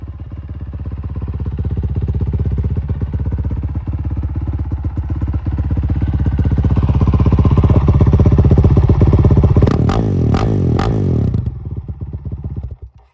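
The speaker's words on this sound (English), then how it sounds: "Bike sounds really good." A Honda CRF450L motorcycle engine with 1,322 miles runs loud and close at a steady, choppy idle, rises in a few short revs near the end, then shuts off.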